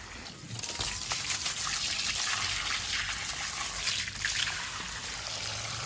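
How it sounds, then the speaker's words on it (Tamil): Water from an electric pump motor splashes and trickles at a household outlet, a steady moderate gush without voices. "தண்ணி மோட்டர் போட்டிருக்கோம்."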